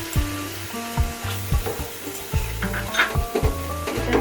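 Cashew and melon seed paste sautéing in a pan for gobi roast, a close steady sizzle broken by repeated knocks and scrapes of a spoon stirring against the pan, with a faint tonal hum in the background.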